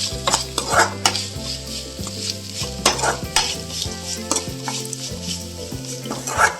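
Fresh grated coconut is stirred and roasted in a pan for a Malabar-style varutheriserry, with regular scraping strokes of a spoon against the pan over a soft, continuous sizzle and no voices.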